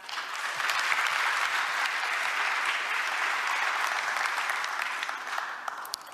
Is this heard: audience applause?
yes